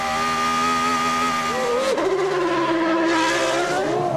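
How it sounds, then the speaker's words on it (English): Formula One race cars from the 1998 season scream past at high revs, with engine pitch shifting sharply as one car passes and others follow close behind, loud and continuous. "Michael Schumacher is joining the pit lane pandemonium."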